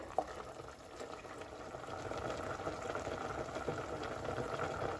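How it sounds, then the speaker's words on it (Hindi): Spinach greens bubble and simmer in a pot, a steady soft boiling hiss with small pops, fairly quiet and continuous. "आप देख सकते हैं साग जो है अच्छे से उबल रहा है।"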